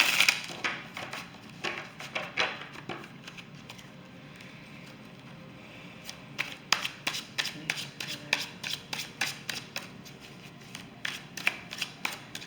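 A deck of energy cards is shuffled by hand, a run of quick papery riffles and soft flicks that come in bursts, close and fairly quiet, with no voices.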